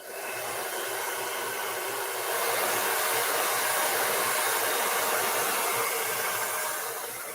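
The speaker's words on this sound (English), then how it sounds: "here's my little blow dryer." A small handheld blow dryer blows steadily on fresh paint during an Easter bunny painting session, a loud continuous airy whoosh with a low motor hum that swells slightly partway through and holds to the end.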